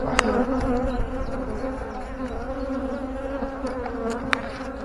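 Dense, steady buzzing of honeybees around an open hive during an inspection of brood and nectar frames, a close continuous drone with a few sharp clicks.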